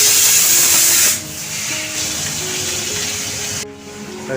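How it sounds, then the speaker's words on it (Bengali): Kitchen utensils washed under running water in a home sink, a steady hissing spray that is louder for the first second, then continues more softly with faint clinks and a tonal hum. "রান্না করতে করতে এই বাসনগুলো মেজে নিচ্ছে"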